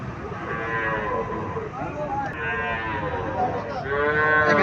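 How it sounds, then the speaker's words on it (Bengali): A Haryana breed cow at a cattle market lets out long, drawn-out moos up close, loud over a background of crowd noise and faint talk. "এখানে একটা গাভী দেখা যাচ্ছে।"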